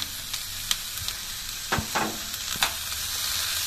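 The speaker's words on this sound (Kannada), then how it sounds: "ಇದಕ್ಕೀಗ ನಾನು ಹೆಚ್ಚಿಟ್ಟಂತಹ ಕ್ಯಾಪ್ಸಿಕಮ್ ಹಾಕ್ತಿದ್ದೇನೆ" Chopped capsicum frying with onions in a hot pan, a steady low sizzle with a few sharp stirring scrapes and clinks, close and alone without talk.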